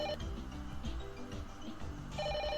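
A telephone rings in The Silver Case video game, a repeating electronic ring over a busy, steady game soundtrack with no talking.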